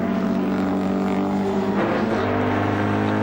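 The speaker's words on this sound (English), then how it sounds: "The car does not sound well at all." Touring race cars at Amaroo circuit in the 1988 Australian Touring Car Championship, including an ailing car, produce a steady, loud, droning engine roar with sustained harmonic tones throughout, continuous with no talk.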